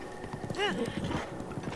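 A horse in a video game clops its hooves in a quick, steady rhythm and lets out a short whinny partway through, with faint talk underneath.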